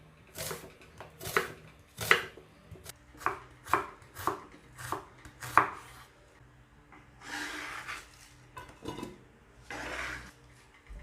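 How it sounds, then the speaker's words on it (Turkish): A knife chops a medium red onion finely on a board in a series of sharp, close thuds, then softer scraping and slicing sounds follow. "bir orta boy kırmızı soğan, ince ince onu da kesiyoruz"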